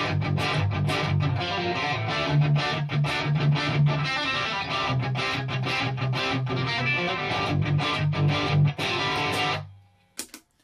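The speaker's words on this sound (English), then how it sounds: "Basically, they're hammer-ons and pull-offs using a power chord form." Distorted electric guitar plays rapid power-chord flutters built from hammer-ons and pull-offs, a loud, dense stream of quick rhythmic notes that stops abruptly near the end, leaving a brief faint tail.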